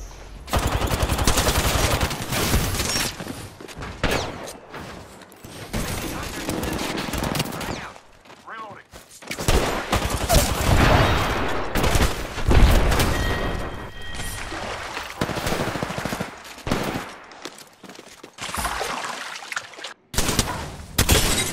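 Apex Legends video game gunfire, dense bursts of rapid automatic shots and single cracks clustered through the stretch with brief lulls between, loud and close, with voices talking over it.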